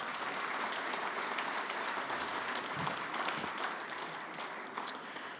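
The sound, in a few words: audience round of applause for sponsors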